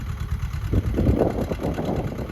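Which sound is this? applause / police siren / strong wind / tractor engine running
tractor engine running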